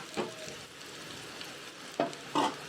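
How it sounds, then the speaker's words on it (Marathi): Turmeric is stirred into a pan of prawns: a few clinking spoon strokes and scrapes stand out over a low, quiet sizzle. "पाव छोटा चमचा हळद मी घेतले मिक्स करून घ्यायचं थोडं"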